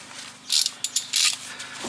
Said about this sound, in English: half inch drive.